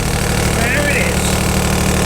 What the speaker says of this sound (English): That's the generator.